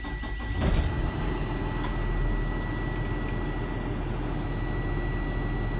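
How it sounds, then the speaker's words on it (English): A truck engine cranks and catches, a brief burst of starter noise that settles into a steady, loud low idle rumble inside the cab. "So now we're going to start the engine."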